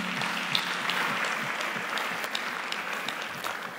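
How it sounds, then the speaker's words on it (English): Conference audience applauding after a plenary speech, a steady wash of many hands clapping at moderate level, heard from within the hall with no talk. "Another round of applause, please."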